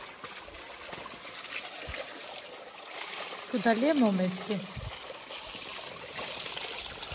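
Spring water trickles steadily at a monastery backyard, a soft continuous dribble and pour heard close by, with people speaking briefly over it.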